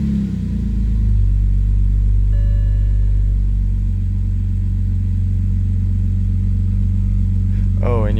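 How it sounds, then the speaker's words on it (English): A BMW N54 engine, freshly fitted with a swapped intake manifold, cranks and settles into a loud, steady low idle rumble up close, with a brief whine near the end. "we're going to start the car now and see what happens"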